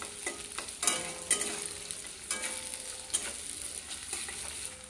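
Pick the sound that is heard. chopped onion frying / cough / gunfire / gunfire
chopped onion frying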